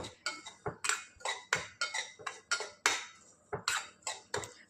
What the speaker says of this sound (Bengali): প্রথমে কড়াইতে সুজিটা দিয়ে দেবো এটা ভালো করে একটু লাল লাল করে ভেজে নিতে হবে